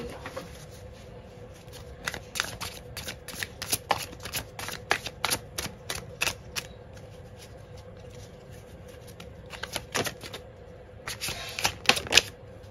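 A deck of cards is shuffled and handled for a fortune-telling card reading: rapid crisp riffles and flicks come in repeated bursts with short pauses, close and fairly quiet, with no talking.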